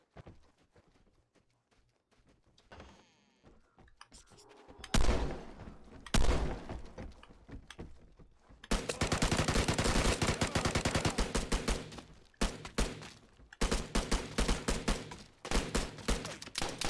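Shotgun blasts in the video game Vigor ring out in loud, sharp bursts, a few isolated shots early on, then dense rapid firing through the second half alongside other clattering impacts.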